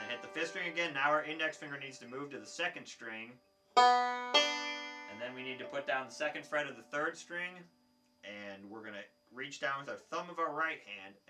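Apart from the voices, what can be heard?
No distinct noise like a dog, phone or traffic.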